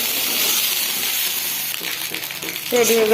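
Leftover rice being fried in a pan makes a steady, close hissing sizzle throughout, and a voice briefly rises over it near the end.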